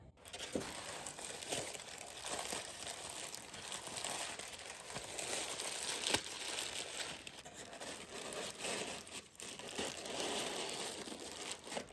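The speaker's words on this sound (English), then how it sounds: "And then we'll also wrap it in paper." Packing paper crinkles and rustles continuously as a fragile crystal shell is wrapped for shipping, close and fairly quiet, with no talking.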